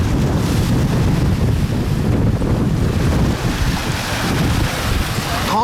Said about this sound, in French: on est cueilli par un peu de vent et un peu de mer